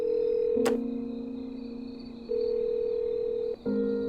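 A telephone rings in the video game Undusted, giving steady electronic tones that hold, shift pitch and break briefly, with a short click near the start and no voices.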